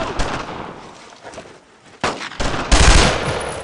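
Rifle and machine-gun fire crackle in a World War II firefight in Brothers in Arms: Road to Hill 30 at German barracks near Saint-M, with loud close bursts, a brief lull, then renewed heavier volleys.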